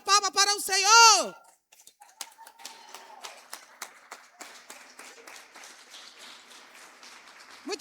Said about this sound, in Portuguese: Levanta, fica de pé e dá a salva de palmas para o Senhor.